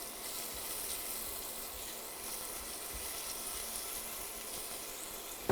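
Chopped onion sizzles in a pan at the start of a tomato sauce, a soft, even, hissing fry that continues steadily for several seconds at low level with no voices.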